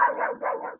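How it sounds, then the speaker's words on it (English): A dog barks in the background, two close bursts of barking in under a second, fairly loud and with no talk over them. "there's a dog in the background"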